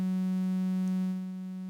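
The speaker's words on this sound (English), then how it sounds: "you can hear that it's got a nice little buzz to it because it's a mix between this ramp and sine wave" A Krotos Igniter synth oscillator blending ramp and sine waves hums a steady, buzzy single pitch rich in harmonics, heard alone for under two seconds and easing slightly softer toward the end.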